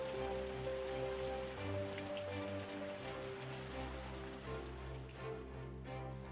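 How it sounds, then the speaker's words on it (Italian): Heavy rain pours down in a children's story about a house, a steady dense patter of drops that fills the whole clip, with soft sustained musical tones running underneath. "Piove a catinelle."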